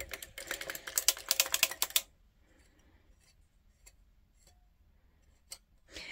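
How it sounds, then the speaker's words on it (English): A circular sock knitting machine being cranked by hand, giving a dense run of quick mechanical clicks and rattles for about two seconds, then near quiet with a few isolated clicks. "Crank around till it clicks."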